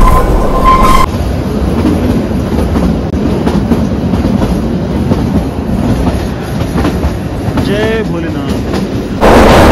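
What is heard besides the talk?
Himalayan Queen train running slowly to Shimla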